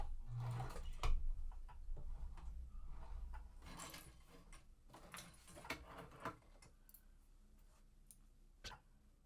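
A sewing machine stitches pieces of a quilt block. It gives soft, quiet clicking and whirring bursts with a few knocks, close by and fairly faint, and no one talks.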